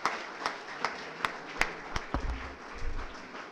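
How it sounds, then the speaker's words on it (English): Students at a college induction clapping for themselves, a handful of sharp separate claps in an uneven rhythm that thin out, followed by shuffling and low murmuring in a large room. "Put your hands up. Now clap for yourself."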